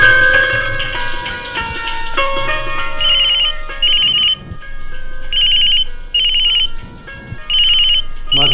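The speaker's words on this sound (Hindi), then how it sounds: "मधु जरा फोन सुन लो।" A telephone rings in repeated electronic trills, five short bursts spaced evenly apart, loud and close against steady background music in a Hindi radio play.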